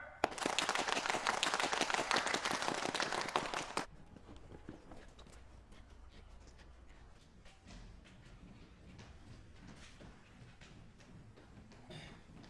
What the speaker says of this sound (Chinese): 来，我们鼓掌欢迎新同志